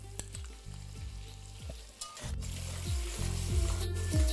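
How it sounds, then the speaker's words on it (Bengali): Chopped ginger and green chili fry in hot oil in a pan, steady sizzle with repeated scraping stirs of a spatula, close and fairly loud, no talking. "এবার আদার কাঁচা গন্ধটা যতক্ষণ না যাচ্ছে ততক্ষণ এটাকে ভালো করে একবার ভেজে নিন এইভাবে।"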